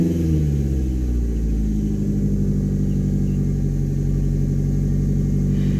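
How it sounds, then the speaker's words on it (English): The engine of a 1999 Mazda Protege, freshly fitted with a cleaned EGR, replaced hoses and a reinstalled air intake, is revved up. It rises and holds at a loud, steady, rumbling pitch for several seconds, with no voices. "Let me rev it."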